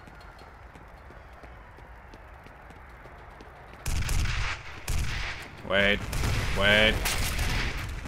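Gunfire in the shooter game F.E.A.R. Extraction Point erupts partway through after a quiet stretch, loud sustained bursts of shots with a brief gap, while someone speaks briefly over the shooting.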